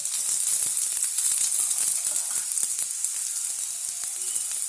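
Thalipeeth, a millet flatbread, frying in ghee on a non-stick pan over low heat: a steady, loud sizzle with crackling pops throughout and no talking.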